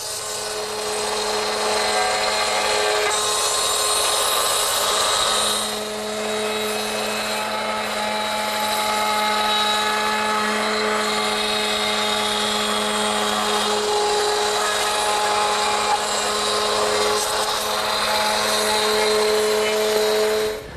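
A router fitted with a straight cutting bit cuts redwood, giving a loud, continuous high whine with a steady hum that barely varies across the whole stretch, with no voices.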